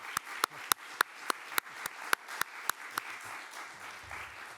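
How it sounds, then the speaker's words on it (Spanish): Sparse, distinct handclaps at a film press conference, a small group clapping in loose rhythm, each clap sharp and close, gradually thinning out and fading toward the end with faint movement noise. "os pido antes de empezar un fuerte aplauso para ellos."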